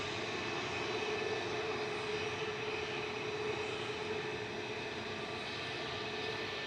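A brand new Airbus airliner at Manchester Airport gives a distant, steady engine roar and whine that stays constant for several seconds, with no talk.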